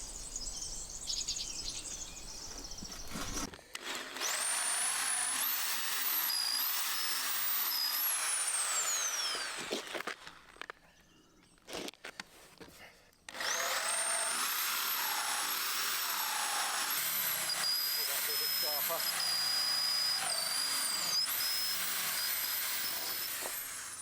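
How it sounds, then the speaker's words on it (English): A power drill bores holes in a roof to secure wall plates during a stone house renovation. It whines loud and close in two long runs, with a short quiet pause between them. "up on the roof drilling the holes to secure the wall plates"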